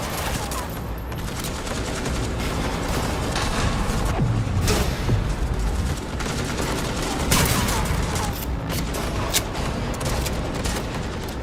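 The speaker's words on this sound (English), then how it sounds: "This allows players to bounce bullets off walls and hit enemies hiding behind cover." Dense gunfire in the video game Cyberpunk 2077, with overlapping shots, bursts and booms filling the whole stretch loudly amid game effects, and ricocheting bullets mixed in.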